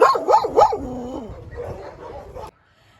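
Several dogs bark in quick, overlapping bursts at an animal shelter, loud and close at first, then fading into scattered yips and whimpers before cutting off.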